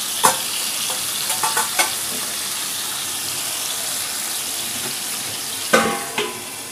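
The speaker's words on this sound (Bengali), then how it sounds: "তারপর আলুগুলো ভেজে তুলে রাখব।" Potatoes fry with turmeric and salt in a pan and are stirred now and then, giving a steady low sizzle punctuated by a few sharp scraping clinks near the start and again near the end.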